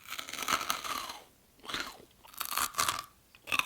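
Close, loud crunching as crunchy milk chocolate cereal balls from a German supermarket are bitten and chewed, in three or four distinct bursts separated by short pauses.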